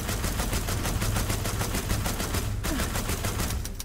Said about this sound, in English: Time to bring out the big guns.